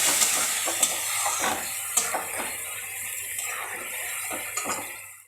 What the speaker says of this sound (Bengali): এবার আমি মশলাটা কষাতে থাকবো